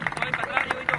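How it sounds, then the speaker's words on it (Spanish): Scattered hand claps from an audience, a short burst of applause with voices and crowd noise mixed in. "Qué lindo aplauso."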